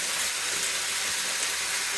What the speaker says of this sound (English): Everything's still sizzling away in here, which means there's no more water in the pan.